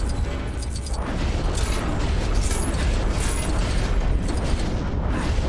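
Gunfire and mechanical clatter in the video game LEGO The Hobbit, a dense, continuous run of bursts, pops and ratcheting clicks at steady loudness throughout, with no talk.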